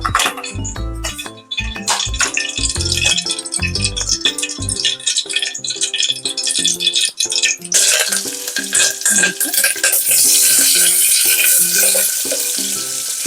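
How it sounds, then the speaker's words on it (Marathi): Cumin and mustard seeds tempering in hot oil: tonal, music-like sounds come first, then a loud, dense crackling sizzle takes over and keeps going to the end. "सो मी आता जिरं मोहरीची फोडणी देते याला"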